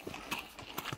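Hunting horses' hooves clip-clop in a quick, uneven rhythm, a few sharp strikes close by over a short moment with no talk.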